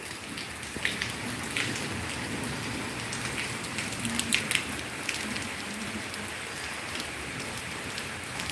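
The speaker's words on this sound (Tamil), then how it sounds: "இன்றைக்கி நல்ல மழை" Rain falls steadily in a village, a constant close hiss of drops on surfaces with scattered louder drips and taps throughout, no voices.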